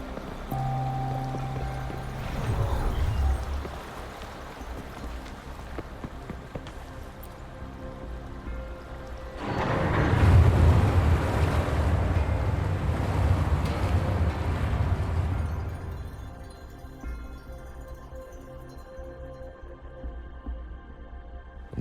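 Water drains away in the video game Wuthering Waves: a rushing, pouring swell of flowing water rises midway, holds for several seconds, then fades back under a quiet ambient game soundtrack.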